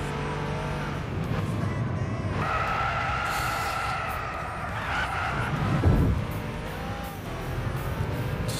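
A race car in Gran Turismo 6 brakes hard and skids, engine whine and tire squeal rising and falling over a steady drone, with a louder screech near the end.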